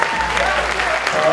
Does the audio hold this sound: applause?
yes